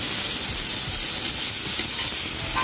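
Vegetables frying in a little oil make a loud, steady hiss and sizzle that stays close and constant, with nobody talking.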